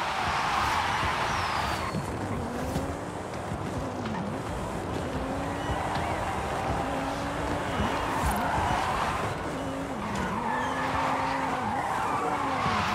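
Italian hypercars race in Forza Horizon 5, loud engine roar with repeated tire squeals and skids wavering throughout, continuous and close.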